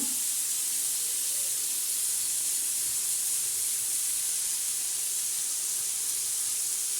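Crushed green chilli thecha pounded on a grinding stone and frying in a hot pan, giving a steady, fairly faint hiss and sizzle that continues unbroken, with no talking.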